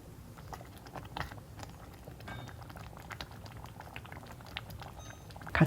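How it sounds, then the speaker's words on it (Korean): Oatmeal porridge simmers in broth on lowered heat while being stirred, giving a steady soft bubbling with scattered small pops and occasional scrapes, close and fairly quiet throughout. "불을 줄이고 저어가면서 조금만 더 끓여줄게요"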